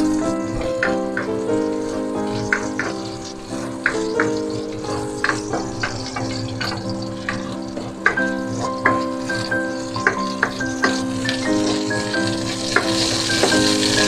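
Ginger sizzling in a hot pan while cooking a crab in coconut milk dish, a steady crackling fry lasting throughout with small pops and spatters, fairly loud and close, no talking.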